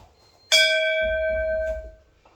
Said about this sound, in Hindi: मैं आपको इसी घंटी की दो किस्म की आवाज़ को सुनाता हूँ